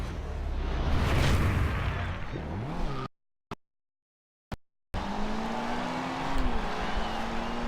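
Race cars roar through a commentated race with squealing tires and rising, falling engine revs, loud and close, broken midway by a couple of seconds of near silence.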